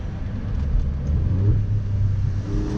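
An Alfa Romeo Giulia Quadrifoglio's engine pulls hard with a deep, loud rumble that swells as the car accelerates into a tunnel, the note rising slightly toward the end.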